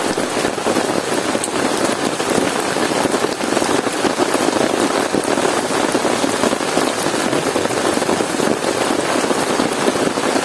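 Heavy rain pours steadily at a campsite, a dense continuous hiss of drops drumming on surfaces with no letup and no voices.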